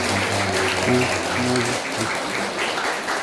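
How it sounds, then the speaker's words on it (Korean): A congregation at a church retirement and ordination ceremony applauds warmly, a dense, loud and steady clapping that lasts throughout, with faint tones underneath. "다시 한번 뜨거운 박수 부탁드립니다."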